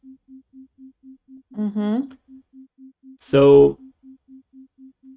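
Isochronic tone at full blend, generated in Huon Studio within Ableton Live: a steady low pulsing beep switching evenly on and off, near and clean, briefly interrupted by someone speaking twice.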